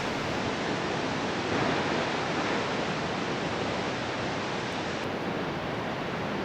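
Roar of the Tequendama waterfall on the Bogotá River in Colombia, a dense, steady rush of falling water that stays loud and unbroken throughout, with no voices.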